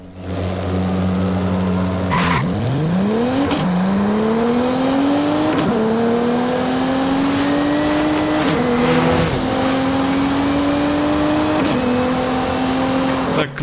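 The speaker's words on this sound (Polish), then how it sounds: "Wydaje mi się, że to tak działa launch control, ale chyba powinien startować od 3500 obrotów, nie?" Nissan GT-R making a launch-control start in Forza Horizon 5, a loud engine holding revs then accelerating hard through several rising gear pulls with brief shift breaks, sustained and close.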